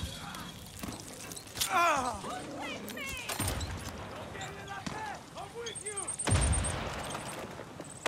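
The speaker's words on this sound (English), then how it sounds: "What the fuck's throwing grenades?" Grenades go off during a firefight in Far Cry 6, with sharp blasts and crashes around the middle and near the end. Other game sounds fill the gaps, and a player talks over them.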